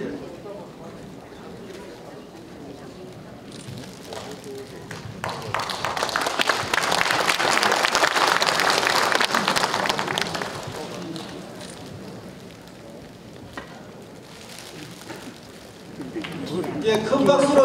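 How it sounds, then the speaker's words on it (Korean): An audience claps at a 2022 ethics and morality promotion ceremony held by the Damsuhoe association while flowers are presented. The applause swells from a murmur to a full, dense ovation in the middle, then fades back under voices. "큰 박수로 격려해 주시기 바랍니다"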